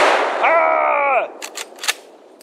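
A Winchester 1895 rifle fires one loud, sharp shot close by, and a ringing tone trails it for a moment, followed by a few faint clicks and knocks.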